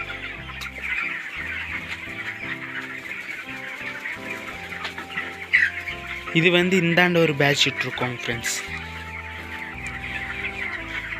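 Broiler chickens and roosters on a Tamil poultry farm cluck continuously in a close flock, with a louder burst of squawking midway, while someone talks over them.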